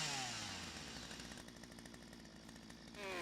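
Chainsaw cutting a log in the video game Lumberjack Simulator: a rough buzzing engine that revs up at the start, bites into wood with a steady rattling snarl, then rises again at the end, clear and alone.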